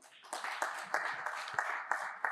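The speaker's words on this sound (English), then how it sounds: "Let's give a round of applause to Melanie." A conference audience at an NGO directors' summer retreat claps in a short burst of applause, moderately near and fairly faint, with no talking over it.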